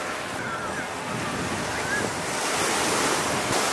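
Surf breaking along a crowded beach at Barra de Sao Miguel, Brazil, a steady wash of waves with wind buffeting the microphone, continuous and fairly loud with no clear voices.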